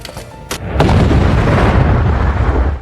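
Grenades explode in a film scene: a couple of sharp cracks give way to a loud, sustained rumbling blast that rolls on for a few seconds, close and heavy.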